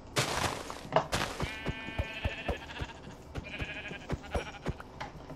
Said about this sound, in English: Look, there's three sheep.